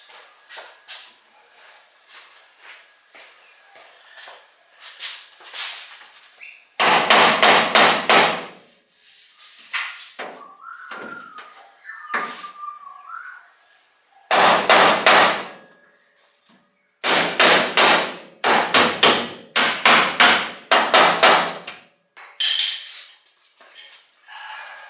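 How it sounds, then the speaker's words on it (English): Sharp metallic hammer taps on a car body panel being fitted for TIG welding, coming in short clustered bursts of several ringing strikes with quieter scraping and handling noises between them. "Needs a little tap up with the hammer."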